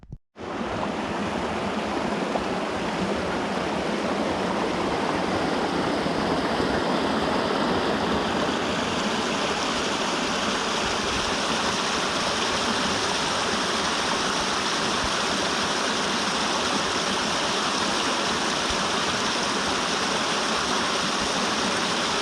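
A mountain stream in the Carpathians rushes and splashes in a loud, continuous, steady roar of flowing water heard close by throughout, with no talking.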